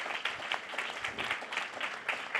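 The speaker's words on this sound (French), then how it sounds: "Oui, on peut vous applaudir." An audience in a hall at an opening ceremony claps in a brief, steady patter of applause, moderately distant and fairly soft.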